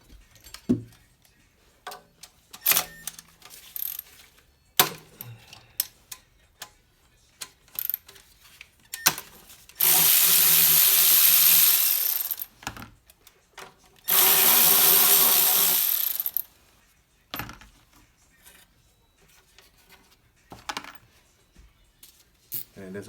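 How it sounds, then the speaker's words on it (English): Sporadic metallic clicks and clanks from a 12mm socket wrench working the turbo heat shield bolts on a 3SGTE engine, broken by two long, loud bursts of steady power-tool whirring. "Remove it with the 12mm socket."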